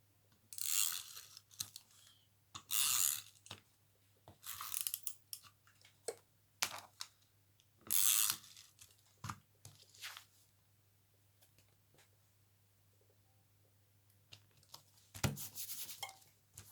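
A tape runner glue roller lays adhesive in a series of short, crisp rasping strokes, each a brief burst separated by quiet pauses, close and fairly soft, with no talking.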